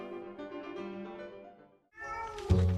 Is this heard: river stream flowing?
no